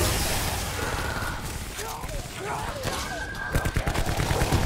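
Gunfire in the zombies mode of Call of Duty Black Ops 4, the Blood of the Dead map: rapid shots rattle over a busy game mix with other effects, and a burst of louder sharp reports closes the clip.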